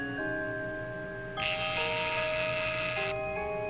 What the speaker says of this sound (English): I rang the bell adjacent to the door in the entryway.